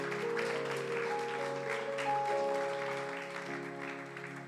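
Church congregation applauding and cheering together during a sermon, a steady dense wash of clapping that holds for several seconds, with sustained sung or organ-like tones running underneath.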